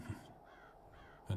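A crow caws in the eerie grounds of The Séance of Blake Manor, a short harsh call at the start and another at the end, with quiet ambience between.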